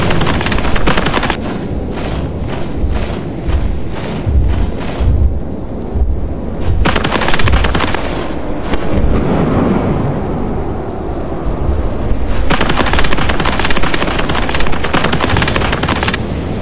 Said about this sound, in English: did you guys get struck by lightning?